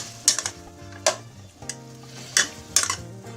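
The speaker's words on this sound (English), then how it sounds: "So I just want to cook the garlic slowly." Finely chopped garlic, about six or seven cloves, cooks in a pan over medium heat, a soft sizzle under a few sharp scraping stirs and utensil clinks, with background music tones.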